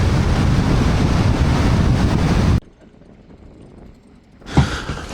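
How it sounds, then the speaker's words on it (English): Heavy wind roars across the microphone for a few seconds at sea with whitecapped waves, then drops away to a quieter rush of water, before another gust bursts in. "it was unbelievably windy. White horses."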